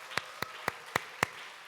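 Several separate claps in a church during a pastor's installation service, five sharp isolated hand claps spaced evenly and fairly quiet, with no talking.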